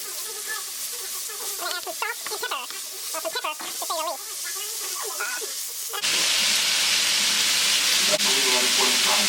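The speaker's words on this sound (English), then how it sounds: "And now I'm going to chop this up and finish this stir frying it." Chopped cabbage and onion stir-fry in a pan, a low sizzle heard under a person talking, then a loud, steady, close frying hiss that takes over for the last few seconds.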